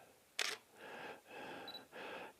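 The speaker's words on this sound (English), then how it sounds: "every time you hear the shutter," A camera shutter fires in a burst of sharp clicks at close range, followed by several longer mechanical whirring or rustling passes, with no talking.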